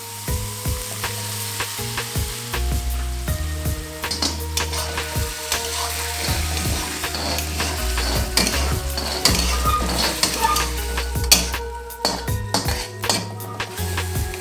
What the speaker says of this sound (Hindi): अब हम इसमें डाल रहे हैं टमाटर प्यूरी